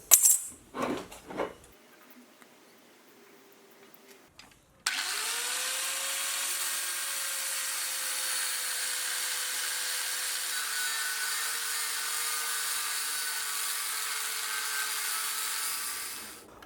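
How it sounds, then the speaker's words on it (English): A few loud knocks and handling sounds come first, then an angle grinder starts and cuts steadily into a section of metal. The high, harsh whine holds loud and even for about twelve seconds, then winds down. "I'll get the angle grinder and I'll cut off a section that I need"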